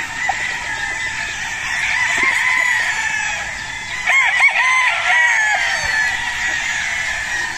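Battle stag roosters crowing at a gamecock farm, loud repeated cock-a-doodle-doo calls overlapping from several birds nearby, with clucking mixed in and no talking.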